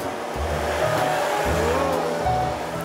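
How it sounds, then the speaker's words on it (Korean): Vacuum cleaner being demonstrated indoors, a loud steady motor whine and airflow roar running continuously, with small shifts in tone as the head moves. "청소기를 처음 써보는 장모님을 위해 용섭 씨가 시범을 보인다."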